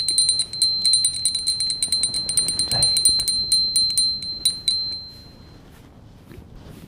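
A small hand bell rung rapidly during Hindu aarti worship, bright metallic rings in a quick steady stream that slow and fade out before the end, with a soft thud near the middle.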